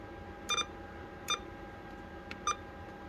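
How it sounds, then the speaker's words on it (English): Three short, crisp electronic beeps from a President McKinley CB radio sound at uneven intervals over a faint background hiss. "You can turn that beep on or off"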